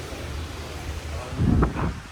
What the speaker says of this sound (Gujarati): હવા જોરદાર આવી રહી છે